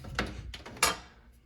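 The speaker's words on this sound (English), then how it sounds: "if I can open this drawer without making a absolute mess" A metal shop drawer in a home workshop opened with a couple of quiet sliding rattles and a sharper clunk near the end, close and alone.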